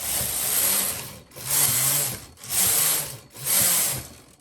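A Brother knitting machine with a KHC-820A single bed colour changer knits rows: four loud carriage passes, each a rising and falling mechanical whoosh with rattling clatter, and brief pauses between them.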